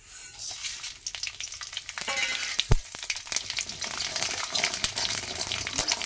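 Bay leaf, mustard seeds and cumin crackle and sizzle in hot white oil in a heated kadai. A busy hiss is broken by sharp pops and occasional stirring knocks, up close and continuous.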